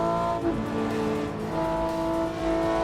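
A racing car's engine drones loud and close in Assetto Corsa or BeamNG, a rich sustained tone that dips slightly then climbs again as the revs shift, with no speech over it.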